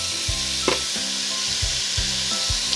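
Ground meat for lasagna sears in a hot pan with a loud, steady broadband sizzle, broken by several soft knocks and scrapes of a utensil against the pan, close up with no voices.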